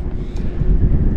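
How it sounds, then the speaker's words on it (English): Wind gusts across a microphone on a river beside a bridge, with heavy low buffeting that rumbles and swells unevenly over the whole short stretch, with no one speaking. "the wind is blowing this way"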